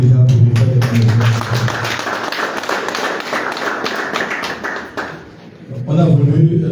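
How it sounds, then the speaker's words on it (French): Audience applause at a press conference, dense rapid clapping from a crowd lasting several seconds and fading near the end, with someone speaking over it at the start and again as it dies down. "J'aimerais que vous applaudissiez"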